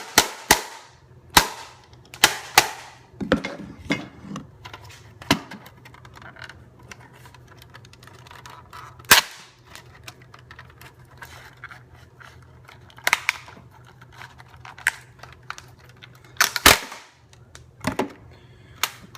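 Sharp, scattered whacks and cracks as a NetGear RangeMax router is broken apart for scrap, irregular and close-up impacts with quieter clatter between them.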